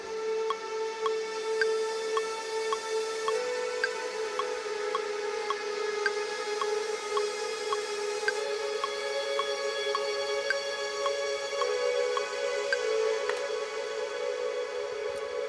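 A sustained synth lead from the Heinbach Landfill Totems instrument holds a steady droning tone with a regular ticking pulse running through it, alone and fairly even in level.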